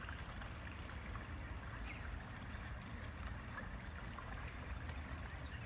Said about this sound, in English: There's a little creek right here.